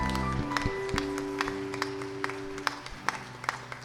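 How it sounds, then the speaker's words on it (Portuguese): A congregation at a Sunday morning worship service claps for the Lord, scattered loud claps over sustained keyboard chords, growing more rhythmic toward the end. "aplauda o Senhor bem forte pela essa vitória"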